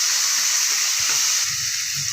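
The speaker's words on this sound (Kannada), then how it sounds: "ಬೆಳ್ಳುಳ್ಳಿ 2 ಹಸಿಮೆಣಸಿನ್ಕಾಯಿ ಇದನ್ನ ಸ್ವಲ್ಪ ರೋಸ್ಟ್ ಮಾಡ್ಕೊಳ್ಳೋಣ" Garlic and green chillies roast in hot oil with a steady, close sizzling hiss, and a few soft stirring scrapes sound underneath.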